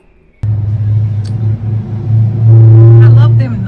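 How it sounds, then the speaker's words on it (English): A noisy car roars past outdoors at lunchtime, starting abruptly with a loud low engine rumble that swells as it nears and revs, then fades slightly; a voice is heard briefly over it. "I love them noisy cars."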